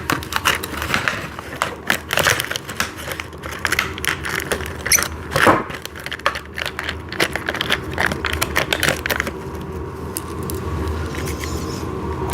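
Bolts with washers being fastened into an office chair base: a busy run of sharp metallic clicks, ratcheting and clinks, close and fairly loud, with bursts of tool rattling through most of the stretch and a quieter tail.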